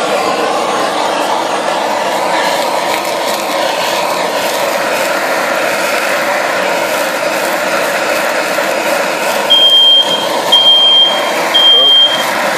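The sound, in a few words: smoke detector alarm beeping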